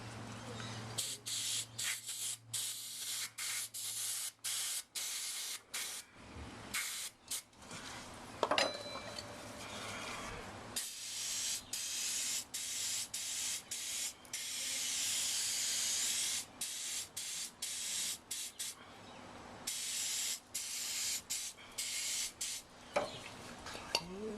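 Repeated bursts of aerosol spray hissing onto the front brake parts of a 2007 Yamaha Majesty YP400 scooter, in short and longer blasts close to the microphone, with brief pauses and faint clinks of metal parts.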